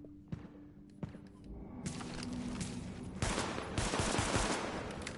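AK rifle gunfire in a video game: a few sharp isolated shots, then dense bursts of rapid fire with crashing impacts, loud and close with no talking.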